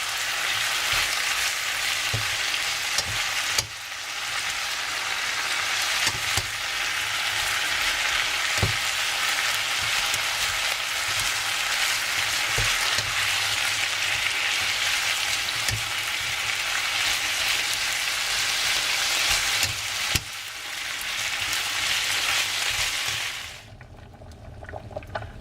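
Vegetables for chicken pad see ew stir-fry in a hot pan, a loud continuous sizzle with periodic tossing and scraping bursts, cutting out abruptly near the end and leaving faint quiet.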